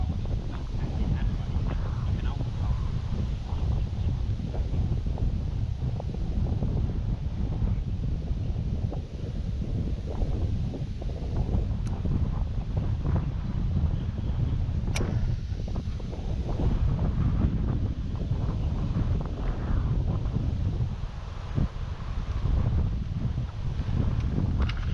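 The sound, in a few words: strong wind blowing at a fishing lake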